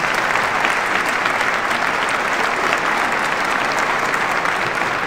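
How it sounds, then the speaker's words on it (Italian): A live audience at an Italian art event gives sustained, dense applause, steady and loud throughout with no voices standing out. "Un caloroso applauso da tutti voi, Salvo di Natale, facciamoci un applauso"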